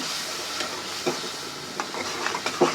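A spice paste of turmeric, chili and coriander powder with a splash of water cooks in a pan for chicken curry, giving a low sizzle with occasional light spatula scrapes and taps, close but quiet, no voices.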